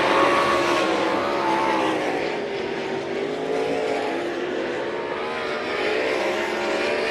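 Sprint cars roar around a dirt raceway at St. Croix Valley Raceway, engines howling in a continuous high-pitched drone that rises and falls as the pack slides through the turns, loud and unbroken.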